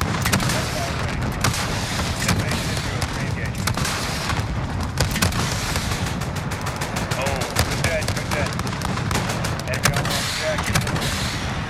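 Heavy gunfire in Call of Duty Modern Warfare, dense bursts of rapid shots and booming impacts filling the whole stretch, loud and continuous, with voices talking underneath.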